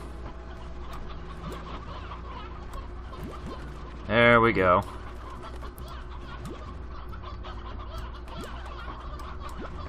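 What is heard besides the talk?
chickens clucking in video game Slime Rancher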